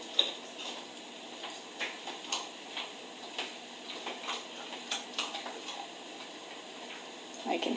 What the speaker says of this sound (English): I can hear him munching.